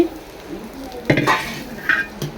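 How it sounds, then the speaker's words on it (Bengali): Roti toasting on a hot pan in a home kitchen, giving a soft sizzling crackle with a few brief louder scrapes and taps, fairly close and steady, with no talking. "রিসানের রুটিটা এখানে সেঁকে নিচ্ছি"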